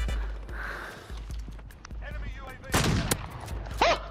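Gunfire from a gun in a Call of Duty match, quick bursts of shots crackling over a low rumble, with a louder cluster toward the end and a voice talking briefly.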